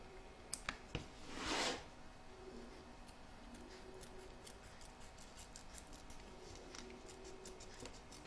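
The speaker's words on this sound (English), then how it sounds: "And you can now trim away all the excess." Scissors trim excess vinyl from an in-the-hoop embroidered pouch, a few quick, crisp snips near the start followed by faint, scattered clicks in a very quiet room.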